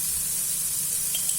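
Ginger sautés in a pan with a soft, even sizzle and faint hiss that stays steady for a moment, with no talking.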